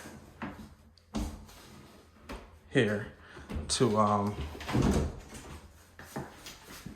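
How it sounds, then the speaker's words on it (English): A pocket door in a bathroom of a Georgia house slides open and shut with soft rolling thuds, under a person talking. "it's a pocket door to open and close this door, which is pretty cool."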